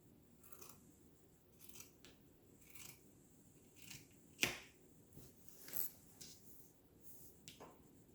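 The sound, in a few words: scissors cutting fabric pieces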